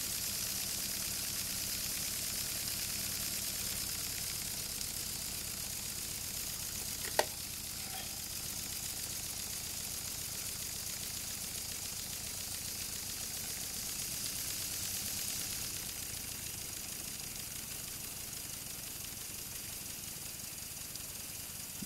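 A restored Eichendampfer steam engine runs after being reversed, giving off a steady, even hiss and soft rhythmic chuffing. One sharp click cuts in partway through, with no talk.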